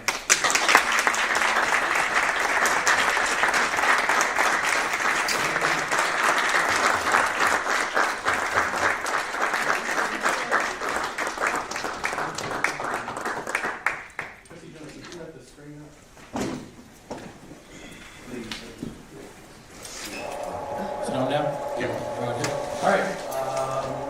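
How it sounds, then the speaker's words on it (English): A room full of people breaks into loud, dense applause that runs steadily for about fourteen seconds, then thins into scattered claps and movement before a speaker's amplified voice comes in. "can we all give a round of applause to the Deborah Vines?"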